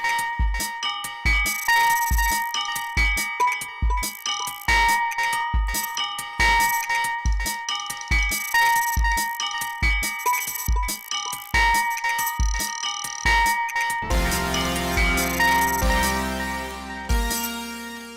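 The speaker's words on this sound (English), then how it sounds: "I want to create some panning on that bell sound as well." A synthesized bell pattern programmed in the Fireball tracker rings out in a steady rhythm of bright, decaying strikes over punchy low thumps, loud and clear, thickening into a denser chord toward the end.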